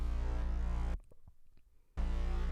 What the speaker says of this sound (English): and the sub bass